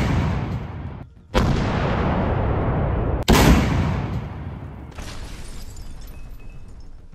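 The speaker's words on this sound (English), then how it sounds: "Орудие, выстрел!" An artillery gun fires twice, each shot a loud, sharp boom followed by a long rolling rumble that fades slowly, with no voices over it.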